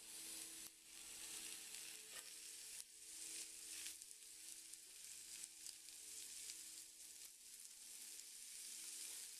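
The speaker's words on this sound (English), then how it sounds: "heat up some oil in a pan or a girdle or something like that, and then put on your suya" Suya meat frying in hot oil in a pan, a continuous hissing sizzle heard alone, faint and steady with slight crackling flutters throughout.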